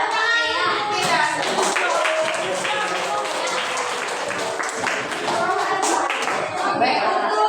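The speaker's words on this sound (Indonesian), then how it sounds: "tepuk tangan" Classroom of children clapping their hands together during a lesson, a dense rattle of claps running the whole time with kids' voices chattering over it.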